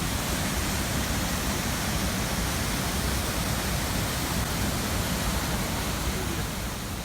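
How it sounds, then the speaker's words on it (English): Whatcom Falls, a large waterfall in a Bellingham park, roaring as a dense, steady broadband rush that fills the whole stretch without letting up, close and loud with no talk over it. "obviously a pretty massive waterfall"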